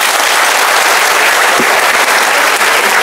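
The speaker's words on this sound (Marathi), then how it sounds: "टाळ्या एकदा जोरदार होऊ द्या." A large audience at a teacher felicitation ceremony claps loudly and continuously to welcome a speaker, a steady dense roar of hands with no pause.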